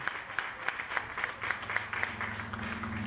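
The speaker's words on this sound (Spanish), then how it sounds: "Denle un fuerte aplauso a nuestro Dios." A church congregation clapping in steady rhythmic unison, a regular beat of claps carried for several seconds over a low sustained tone, moderately distant.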